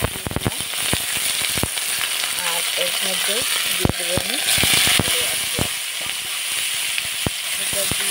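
Oil sizzles steadily in a kadai as pumpkin curry ingredients go in, with sharp crackles and pops scattered through the hiss while someone talks over it.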